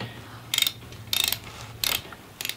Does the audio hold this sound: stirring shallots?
no